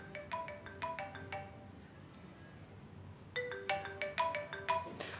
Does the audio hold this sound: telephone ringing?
yes